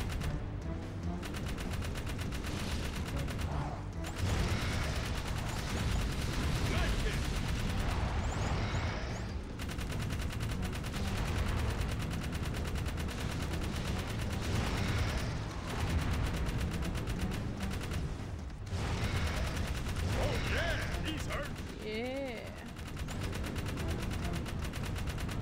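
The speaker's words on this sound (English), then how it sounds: "you just have to shoot the living crap out of them" Rapid bursts of gunfire mown into centipede creatures in Jak 3, dense and continuous across the whole stretch with brief lulls, loud and close over a busy game soundscape.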